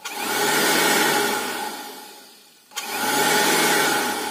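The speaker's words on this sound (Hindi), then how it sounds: "अभी आप देखिए, मिक्सर के प्लग को कनेक्ट कर दिया" A fairly high-wattage electric mixer grinder powered from a converter box runs with a steady, loud whirring drone. It winds down and briefly falls quiet, then starts up sharply and whirs again at full strength.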